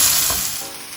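Roughly chopped onions frying in a pan as they cook toward translucent, a short close burst of hissing sizzle that starts loud and eases a little, with a soft stir-like scrape early on.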